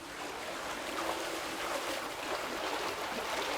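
A swim spa's strong current rushes continuously against a swimmer, a dense, steady roar of churning water close by with no pauses.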